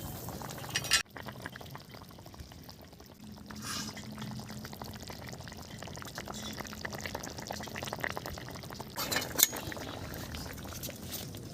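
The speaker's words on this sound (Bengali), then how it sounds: "ঝোল ফুটে গেছে, মাছগুলো দিয়ে দিচ্ছি" Fish curry broth for koi fish simmers in a pot with a soft, steady bubbling, joined by gentle pouring and light clinks of a utensil against the pot, all fairly quiet and close.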